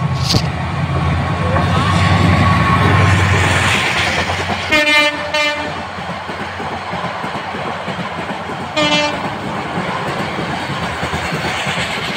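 A train rumbles along the rails between Chakaria and Cox's Bazar in a loud, continuous roar, with two sharp horn blasts sounding partway through.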